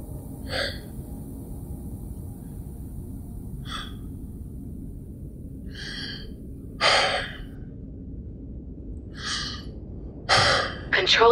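Gasps and hard breaths from one person come in separate bursts under falling cabin pressure, with quiet steady hiss between them and the gasps growing stronger and closer together near the end.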